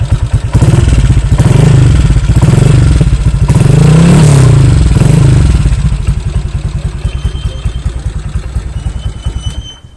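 Honda PCX 2018 scooter with an aftermarket exhaust, revved a little close by, its engine rising in short blips over a steady thumping idle before settling back down toward the end.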